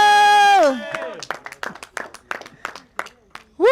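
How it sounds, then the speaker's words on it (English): A crowd claps and cheers for women competitors at a fitness-challenge pit stop: a run of quick, rhythmic claps near by, with loud whooping voices at the start and the end. "as you can see, everyone is cheering the ladies on"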